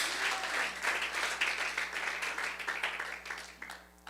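A church congregation applauds in praise, dense sustained clapping that fills the room at a steady loud level before thinning out near the end, with a low hum underneath.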